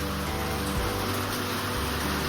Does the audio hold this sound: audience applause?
no